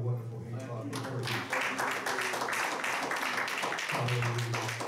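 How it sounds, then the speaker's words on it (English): Congregation clapping for the Lord in a church service, a dense steady patter of many hands sustained throughout, with voices and low organ or music tones underneath. "Let's give the Lord a wonderful hand clap."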